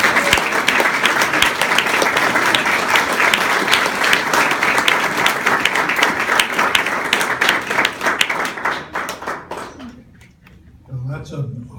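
An awards audience applauds Bill Thomas receiving a Lifetime Achievement Award, loud dense clapping from a large crowd that holds steady for about nine seconds, then thins and fades out.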